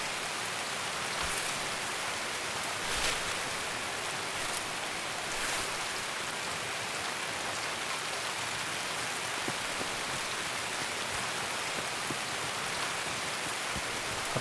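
Rain falls across a map in Escape from Tarkov, a steady, even hiss of drops on surfaces that stays constant and fairly soft, alone with no voices.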